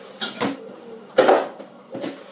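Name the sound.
lid put on a cooking pot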